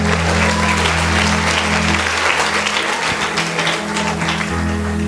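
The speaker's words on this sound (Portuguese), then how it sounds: "os que podem, tomem o seu assento aplaudindo a Jesus, porque Ele é bom" A church congregation applauds during a worship service, the clapping steady, dense and fairly loud throughout, with a sustained low instrumental drone running underneath.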